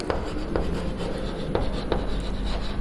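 Pen or marker scratching steadily across a writing surface while a trigonometry solution is written out, with soft continuous rubbing strokes and a few sharper taps, close and fairly quiet, no talking.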